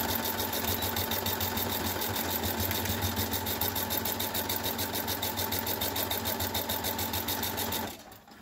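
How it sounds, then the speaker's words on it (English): Sewing machine running a straight stitch along a curtain, a steady fast rhythmic whirring that continues for about eight seconds before stopping abruptly. "So once you get your machine set up with the color that you want, we're just going to stitch it."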